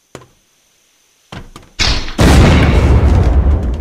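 Base raid in Unturned with a doorway being broken: a couple of faint knocks, then heavy thuds building into a loud, sustained crashing roar.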